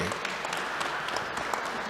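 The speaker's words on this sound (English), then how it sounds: "Give him a round of applause, everybody." A crowd at a gathering gives a round of applause for a presenter, a dense, even patter of many hands heard from a moderate distance.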